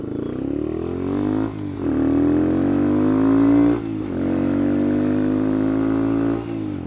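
A motorcycle fitted with a changed sprocket setup accelerates hard and close up, its engine note climbing through several gears with brief dips at each shift, loud and steady throughout.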